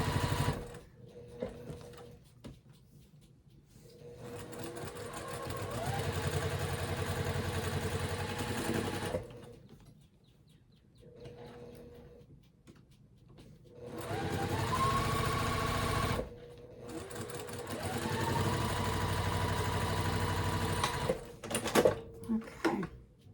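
A sewing machine stitches a boxy bag with white thread at a 3 mm stitch length, whirring in steady bursts of several seconds separated by quiet pauses, with faint talk and small handling clicks in between.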